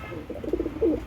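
An Andhra pigeon gives a few soft, low coos close by, brief throaty pulses over a quiet background.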